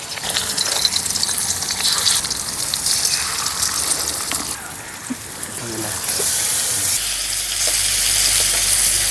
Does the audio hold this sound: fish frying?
yes